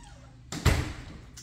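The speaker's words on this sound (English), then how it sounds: "We're going to put the door latch on top of the door" A door latch anchor for a rubber band triceps setup is fitted over the top of a door, giving a single close thunk as the door bumps shut against it, followed by a brief settling rattle.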